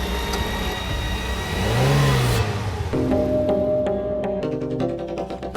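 A car engine revving and accelerating as it gives chase to a motorbike in an audio-drama effect, a steady loud drone that rises in pitch and then gives way to a background music track.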